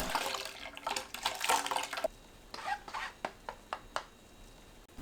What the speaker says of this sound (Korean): 물로 밀가루 풀을 풀어가면서 헹궈내세요